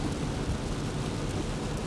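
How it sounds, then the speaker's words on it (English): Heavy rain pours down while a vehicle drives along a highway, making a dense, steady wash of noise that stays loud and unbroken from start to finish, with no voices. "Then the rain. It poured for the next 800 miles"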